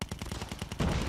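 Rapid automatic gunfire in Call of Duty Mobile, a fast run of close, loud shots that thickens into a dense, sustained burst near the end, with no voices.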